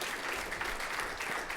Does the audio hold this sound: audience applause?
yes